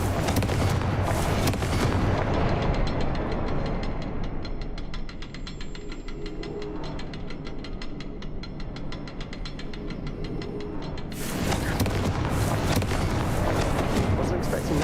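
Confringo explosion spell cast in the video game Hogwarts Legacy, loud fiery bursts at the start and again near the end, with rattling mechanical game sounds between and a voice talking.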